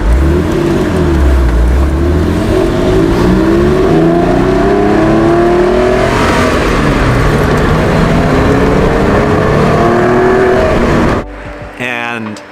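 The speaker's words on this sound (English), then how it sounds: "when that car took off, the sounds it made with the sports exhaust were just glorious" Porsche 996-generation 911 with a sports exhaust accelerating hard, a loud, close engine note rising steadily in pitch for around eleven seconds before cutting off abruptly.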